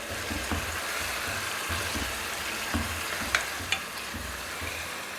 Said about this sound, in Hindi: अब फिर अच्छे से भून लेंगे। दही के साथ भी 2-3 मिनट भून लेंगे।